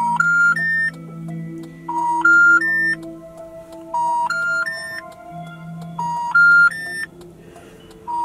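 After a number is dialed, a telephone line gives loud three-note rising call tones that repeat four times in a steady pattern, over a low background hum.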